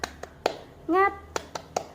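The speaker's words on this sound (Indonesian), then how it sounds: "mari kita tepuk semangat bersama-sama" A fourth-grade class performs a rhythmic cheer clap: a few crisp, evenly spaced claps, a short voiced shout in the middle, then another quick run of claps, all close and distinct.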